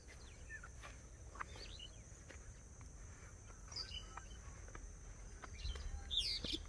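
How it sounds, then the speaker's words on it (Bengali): Birds chirping in quiet countryside beside paddy fields and a canal, with scattered short calls over faint insect hum, sparse and fairly distant, with a closer burst of chirps at the end. "পাখির কিচিরমিচির শব্দে জায়গাটা ভরে আছে"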